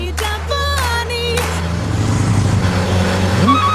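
A car approaches on a road, its engine rumble steady and close and swelling slightly as it nears, while whistling tones sound briefly at the start; nobody speaks.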